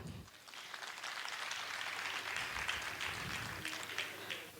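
Distant crowd applause at a product presentation, a steady wash of many hands clapping, fairly faint and sustained for several seconds.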